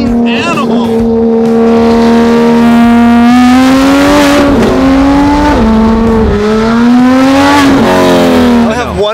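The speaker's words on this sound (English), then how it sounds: "Dude, this car's stealing the show when it comes to the exhaust note." A Lamborghini Urus super SUV with an aftermarket exhaust revs loud and close, its deep engine note climbing and dipping through repeated throttle blips over several seconds.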